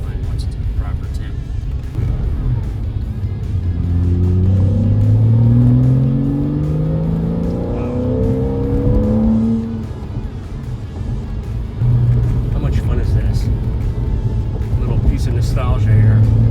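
Engine of a 2008 Porsche Boxster RS60 Spyder rising and falling in revs while driving, climbing pitch sweeps loud and close with a steady road rumble underneath, easing off midway then building again.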